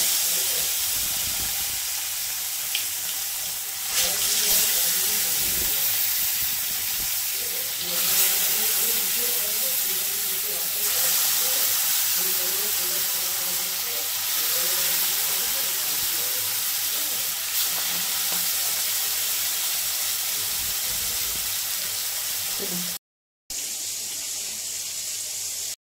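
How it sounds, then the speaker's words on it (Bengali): Pieces of katla fish hiss steadily in hot oil in a home kitchen, a loud, continuous close-up frying sizzle that runs almost unbroken for the whole stretch, with no talking. "তাই তেল দিয়ে দিচ্ছি, এখন মাছটাকে ছেড়ে দেবো।"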